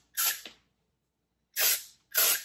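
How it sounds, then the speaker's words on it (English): Three short hissing bursts of an aerosol hairspray, close up, with brief pauses between them; the first is a quick double puff. "I'm gonna shake it, and I kind of spray from the bottom."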